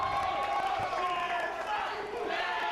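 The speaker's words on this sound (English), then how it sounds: "Crowd chanting the aces. You can hear the roar." A padel league crowd in Sri Lanka roars and chants steadily throughout, a dense, loud wall of voices.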